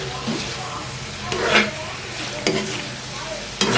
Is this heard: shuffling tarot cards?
no